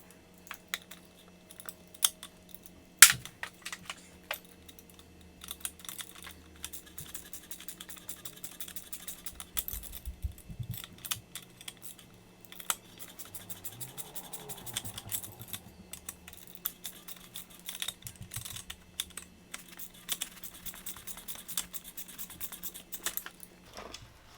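A 19 mm socket wrench tightens the strut mount nut on a 2012 Nissan Sentra, giving a long run of rapid, close ratcheting clicks with occasional metallic rattles and a sharp knock near the start.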